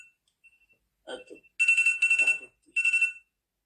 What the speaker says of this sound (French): il y a un réveil qui sonne de toute façon